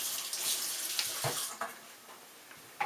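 Water running from a kitchen tap over celery stalks being rinsed, a steady broadband splash lasting throughout with a few brief knocks and splatters as the stalks move under the stream.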